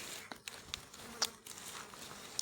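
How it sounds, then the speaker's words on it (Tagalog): Mosquitoes whine and buzz faintly around someone tending a water buffalo outdoors, with a few sharp brief sounds popping up over the soft hum. "daming lamok mga pobre."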